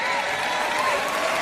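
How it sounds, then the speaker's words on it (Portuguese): A church congregation at a Christian service applauds in a continuous, moderately loud wash of clapping, with a voice faintly audible over the crowd. "Então, palmas para você."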